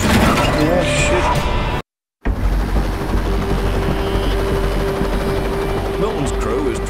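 A helicopter salvages a chopper wreck at a cattle station in gusty wind, producing a loud, continuous rotor-and-wind roar that cuts out briefly once before resuming just as strongly.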